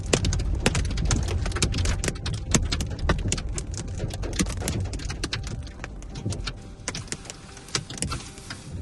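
Hail falling on and around a Tesla car in Europe, a dense, continuous clatter of sharp impacts, loud and close, with no voices.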